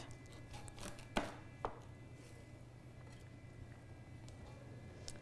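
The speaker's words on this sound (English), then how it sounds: "So I'm going to cut this in half." A knife cuts a butternut squash in half, two sharp thunks against the board about half a second apart, quiet in an otherwise still room.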